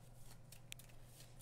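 Cards for the Aeons End board game are shuffled at a table, giving a soft, close riffling and flicking with a few sharper snaps over a low background hum, faint and brief, with no talk.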